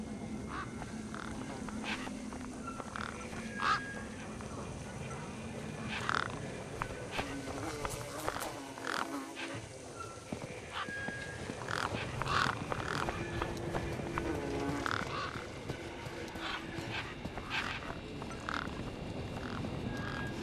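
Gang-gang birds in the game Beyond a Steel Sky give repeated short creaky squawks and croaks, spaced irregularly over a steady ambient background, moderately loud and close.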